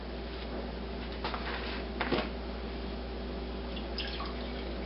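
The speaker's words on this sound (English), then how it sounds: "Pour the milk through the filter" Fresh goat milk poured through a milk filter, giving a soft steady trickle and drip that stays faint against a constant low background hum.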